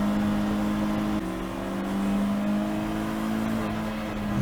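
A racing car drones steadily while overtaking another on track, a loud sustained engine tone with a pitch step as gears change, near and continuous with no talking.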